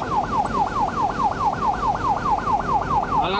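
A volunteer fire brigade truck races through the Warsaw area to a flooding call, its siren wailing in rapid, regular up-and-down sweeps, loud and close over a continuous engine rumble, with no talking.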